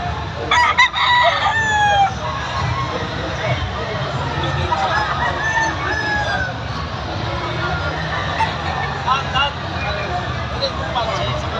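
Roosters at a gamefowl farm crow repeatedly amid clucking fowl, several birds calling near and far over a steady outdoor din, with people talking in the background.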